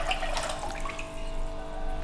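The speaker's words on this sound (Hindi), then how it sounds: "3 गिलास पानी डालेंगे इसमें" Water is poured from a glass into a cooking pot while preparing whole masoor lentils, a continuous close splashing and gurgling stream with no talk.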